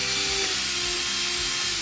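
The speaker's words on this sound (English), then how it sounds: "I'm gonna have to drill a hole into these." A power drill whines steadily as it bores a hole into a plant pot, a continuous close buzzing drone with a slight shift in pitch, heard on its own with no talk.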